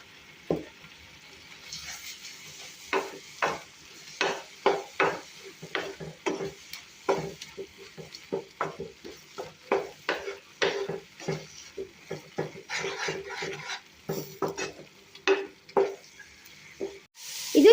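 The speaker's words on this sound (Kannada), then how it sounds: "ರುಬ್ಬಿರೋ ಕೊಬ್ಬರಿ ಮತ್ತು ಟೊಮ್ಯಾಟೊವನ್ನು ಹಸಿ ವಾಸನೆ ಹೋಗುವವರೆಗೂ ಫ್ರೈ ಮಾಡಬೇಕು" Ground coconut and tomato masala frying in a pan, with repeated stirring strokes scraping through a thick sizzling paste, steady rhythmic scrapes close by and no voices.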